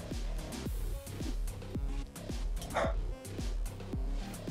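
A dog gives a series of short, evenly spaced barks and yips, fairly close and moderately loud, with faint background sound between them.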